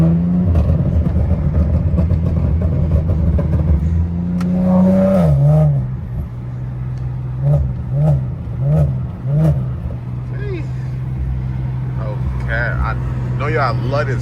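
A rear-wheel-drive Infiniti G37 engine pulling hard, heard from inside the car as a loud, close rising drone that climbs, drops with shifts, and surges again in short bursts.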